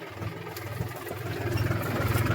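A tractor engine runs steadily at close range, giving a low, even rumble with a regular throb that grows slightly louder over the stretch. No voices are heard.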